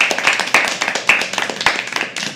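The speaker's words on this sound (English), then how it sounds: "can you please have a round of applause for her?" An audience at a live poetry open mic at The Habitat claps for a first-time performer: close, brisk, uneven clapping from a modest crowd that runs throughout without a break.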